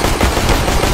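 Dense, continuous rapid gunfire crackling loudly throughout, like automatic weapons fire in PUBG.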